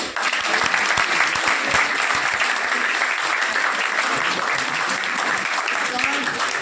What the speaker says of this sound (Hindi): ताली बजाओ अच्छी सी